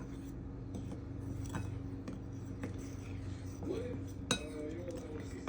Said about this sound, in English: Give everything a quick mix.